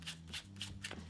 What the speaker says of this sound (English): I like to start off by giving the deck a false full deck shuffle.